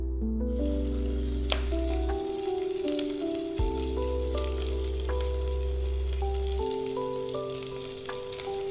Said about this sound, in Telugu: ఒక 2-3 ఉల్లిగడ్డలు ఇట్లా కట్ చేసుకొని ఫ్రై చేసుకోవాలి